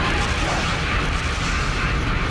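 Explosions from the video game Killer7 form a dense, continuous roar of blasts with no clear gaps, loud and steady throughout.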